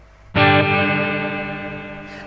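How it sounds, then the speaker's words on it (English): A single shouted voice processed with an Iron Barrel reverb effect, a sharp onset that rings on as a long, metallic, slowly decaying tail for nearly two seconds. "and Iron Barrel reverb."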